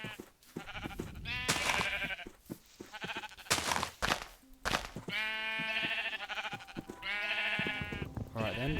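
Sheep bleating in Minecraft, repeated wavering bleats in close succession, loud and near, with a few short thuds between calls.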